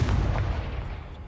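Confringo, a blasting spell in the game Hogwarts Legacy, lands as a single heavy, booming blast. The low rumble fades over about a second, with no talk over it.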